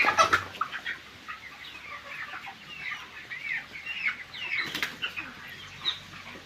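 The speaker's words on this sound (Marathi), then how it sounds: "तर पक्षी एकदम ओके आहे. बघा पक्षी." Chickens in a poultry farm shed, with the side curtains lowered, cluck and chatter close by. Sharp bursts of wing flapping come at the start and again midway, over a busy background of birds.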